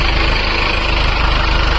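A tractor engine idles steadily in a sugarcane field, a loud, constant low rumble with vibration running unbroken throughout.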